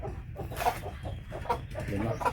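Brooding hens cluck in a loose, irregular series of short calls at close range, layered over a low, steady background murmur.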